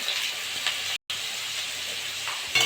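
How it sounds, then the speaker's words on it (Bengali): Potatoes frying in hot mustard oil give a loud, continuous close sizzle, cut by a momentary silent gap near the start and swelling slightly at the very end, with no talking. "তেলটা গরম হয়ে গেছে, আমি আলুগুলো ভেজে নেব।"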